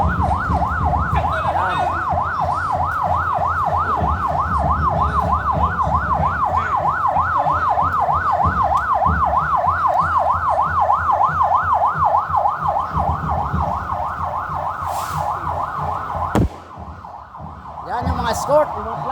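A police car siren leads a town parade in Tigbauan, wailing in a fast, steady up-and-down cycle up close and loud over rumbling vehicle engines, then cutting off abruptly as someone talks briefly.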